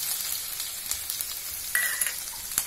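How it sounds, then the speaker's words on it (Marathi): Finely chopped garlic, ginger and ground green chili frying for veg Manchurian gravy, a dense continuous sizzle with light clinks and scrapes of stirring, close and steady, no voices. "पहिल्यांदा मी बारीक चिरलेला लसूण टाकतेय, नंतर हे आलं आहे बारीक चिरलेलं, हिरवी मिरची टाकणार आहे थोडी"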